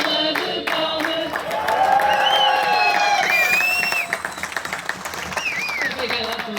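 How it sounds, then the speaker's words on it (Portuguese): A crowd at a folklore festival in Rosais claps steadily and cheers during a birthday celebration, with whoops and whistles rising above the applause and voices calling out as it tapers off. "parabéns do povo, uma salva de palmas"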